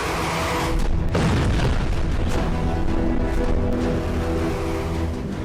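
Bunker buster bombs detonate in an air strike on Iran: a sharp, heavy boom followed by a rolling, rumbling roar that fills the space, loud and dense throughout.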